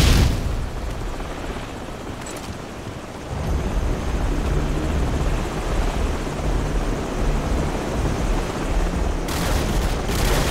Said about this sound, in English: we've got enemy helos approaching from the northwest and southeast.